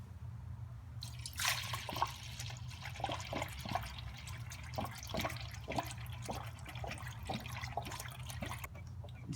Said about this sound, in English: it's time to fill up the radiator with some good old Prester coolant